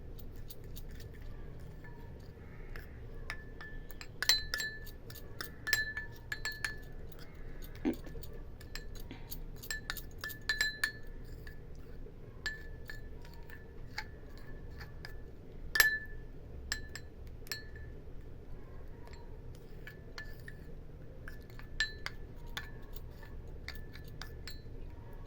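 A spoon mixes a sandalwood and multani mitti face pack in a small bowl, making repeated light clinks and taps against the sides over quiet background noise. The clinks are irregular, with a few sharper knocks.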